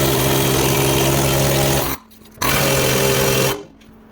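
Needle scaler hammering on an old Fordson tractor part, a loud buzzing chatter in two bursts separated by a short pause, stopping abruptly each time.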